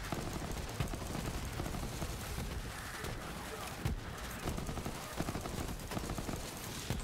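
Steady rapid gunfire from a Borderlands firefight, dense bursts and shots packed close together at constant loudness, with scattered sharper cracks standing out over the clatter.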